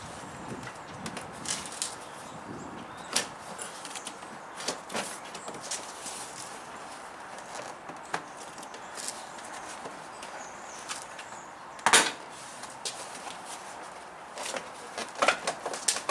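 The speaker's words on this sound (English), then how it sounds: "Now we want to just lift up, grab from the bottom of the door panel," Scattered clicks, knocks and plastic scraping of a Ford Ranger door panel being lifted and unhooked, with a sharper snap partway through and more rattles toward the end, no talking.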